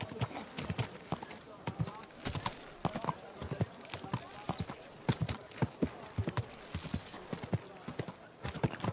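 Close, crisp hoofbeats from a horse in Kingdom Come: Deliverance 2, a steady clip-clop rhythm throughout, with speech mixed in.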